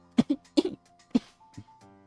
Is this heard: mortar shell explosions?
no